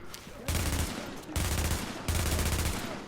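AUG rifle fire in a video game, three sustained full-auto bursts, each about a second long with short pauses between, moderately loud and close with little kick.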